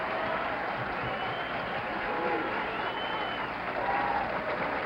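Crowd applauding and cheering a perfect 300 game at a 1969 professional bowling tournament in San Jose, a steady, dense wash of clapping that holds evenly throughout.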